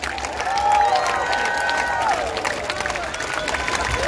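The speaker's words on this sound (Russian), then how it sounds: "ваши аплодисменты нашему руководителю, художественному руководителю, нашему главному дирижеру Максиме Рассока" Concert audience applauding at a tribute to a singer: dense, continuous clapping from a large crowd filling the hall, steady and loud, with scattered cheers and voices mixed in.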